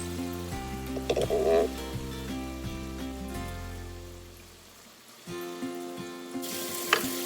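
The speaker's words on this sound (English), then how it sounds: "That's frying up." Chicken sizzles and crackles as it fries in a pot under a steady hum, quiet at first and building with sharp pops near the end.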